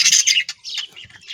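A pigeon chick sitting on the ground gives a quick run of loud, high, thin chirps and squeaks close by, in short uneven bursts with brief gaps.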